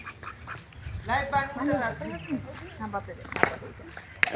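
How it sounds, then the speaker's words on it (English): A domestic duck bought at a village bazaar in Assam quacks in a short series of nasal calls, moderately close, under steady people's talk and outdoor background noise. "This is duck"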